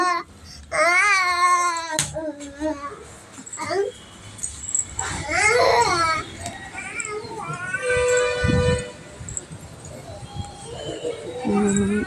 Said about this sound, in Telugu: మా అబ్బాయి ఏడుస్తున్నాడు